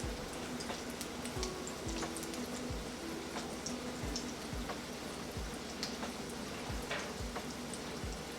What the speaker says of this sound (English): then we'll turn it over and fry the other side also the same way